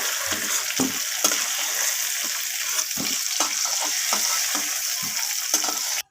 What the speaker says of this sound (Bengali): আলুগুলোকে লাল লাল করে আমি ভেজে নেব